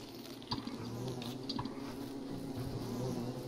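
Killer bees buzzing in the survival video game Don't Starve Shipwrecked, a steady insect drone lasting throughout with a couple of brief louder clicks near the start, fairly close and without talk over it.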